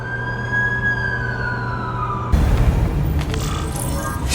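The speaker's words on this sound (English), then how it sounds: "That's the ambulance I called." An ambulance siren in The Amazing Spider-Man video game wails steadily for about two seconds, its pitch sliding downward as it passes, then cuts off abruptly and gives way to rougher, noisier ambient sound.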